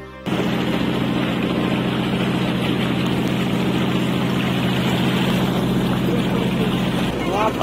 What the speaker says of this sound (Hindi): वापस आ रहे हैं अब हम बोटिंग बोट से